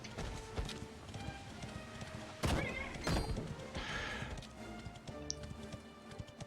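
A horse in the Dragon Quest XI video game gives a short whinny amid rhythmic hoof clip-clops, set against a steady game soundtrack.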